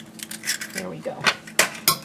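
A fork clinks and scrapes against a bowl as two eggs are beaten, giving a few quick, close metallic taps and rattles over roughly two seconds, with a voice speaking faintly.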